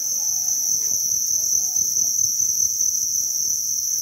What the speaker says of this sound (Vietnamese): Đó, đây con dế của trại dế Thanh Bình đây bà con